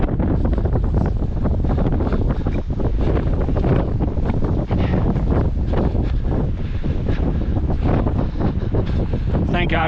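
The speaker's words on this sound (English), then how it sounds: "Thank God for this wind." Strong, steady wind buffets the microphone on Mount Wilson in Red Rock Canyon, a constant loud roar and rumble with gusty surges throughout, with no talk heard.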